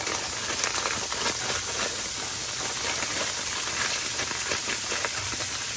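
Frozen riced cauliflower sizzles in a hot pan with a steady, close, broadband hiss of steam and crackle that stays even and continuous throughout, with no talking over it.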